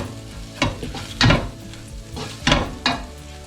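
Spices sautéing over low to medium heat for chicken Madras, a steady soft sizzle broken by several louder scraping stirs of a spoon in the pan, close and with no talking.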